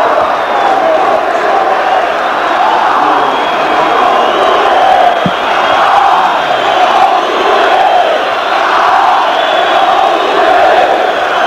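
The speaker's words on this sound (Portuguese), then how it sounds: "Aplaudido pela torcida do Palmeiras. Vaiado pela torcida do Corinthians." A huge stadium crowd at a Palmeiras versus Corinthians Brazilian championship match roars during a substitution, a loud, continuous mass of chanting and shouting from distant stands rather than distinct clapping.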